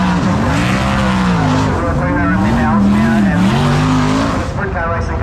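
Sprint cars race on a speedway track at Western Springs, with loud, continuous engine roar and rising and falling pitch sweeps as cars pass close by, under speech.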